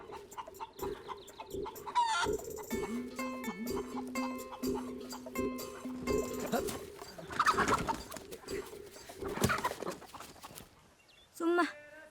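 Hens clucking and a rooster crowing in a rural yard, a steady run of close, loud fowl calls with a crow rising near the end, while people talk over it.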